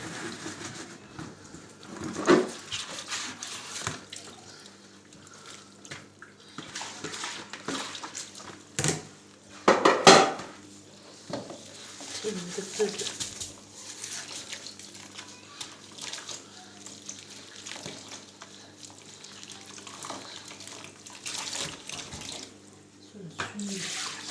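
Dishes are washed by hand in a kitchen sink beneath a faulty tap, with water running steadily throughout, scattered splashes and a few louder clatters, and someone speaking quietly over it.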